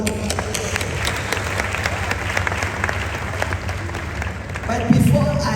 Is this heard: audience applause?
yes